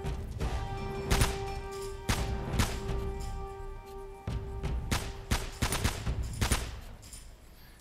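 Rapid gunfire bursts in Uncharted: Drake's Fortune, loud close volleys of shots with thuds in between, sounding repeatedly across several seconds.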